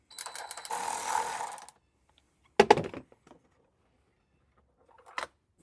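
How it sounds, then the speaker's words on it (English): A 10mm socket works a nylon nut off the taillight mount of a Jeep Wrangler JL with a close, steady whirring run of about a second, followed by a couple of short clunks and a faint tap after a pause. "this nylon nut that we'll go ahead and remove simply with a 10mm socket"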